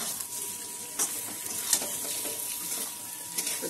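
Eggs and masala with chili powder sizzle and fry in a pan, a steady hiss broken by a few soft stirring scrapes, close and fairly quiet.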